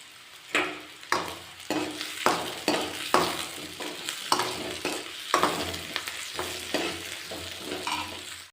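Dried red chillies, curry leaves and tempering seeds sizzle in hot oil while being stirred, each scrape of the spoon adding a rhythmic surge to the steady close frying crackle.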